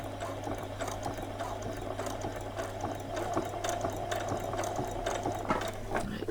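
A home sewing machine stitches doll bedding with a steady, fast mechanical whir and rhythmic needle clatter, running continuously at moderate volume with no talking.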